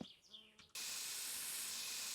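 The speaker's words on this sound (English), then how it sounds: "Have we got any Mozzie spray left?" Mosquito spray in the video game My Summer Car: after a brief faint buzz, a loud continuous aerosol hiss starts abruptly and keeps on steadily to the end.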